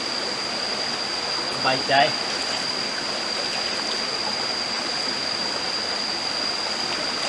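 Natural forest stream flowing as a steady, even wash of water noise, with a brief quiet voice speaking near the start.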